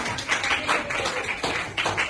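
Students in a classroom applaud, a short burst of dense, close hand clapping that holds steady for about two seconds.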